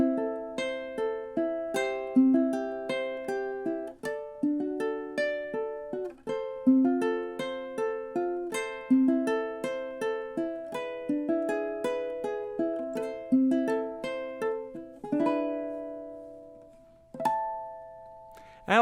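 Ukulele fingerpicking the outro of House of the Rising Sun, a steady arpeggiated pattern of plucked notes in triple time that slows at the end into a few strummed, held chords ringing out alone.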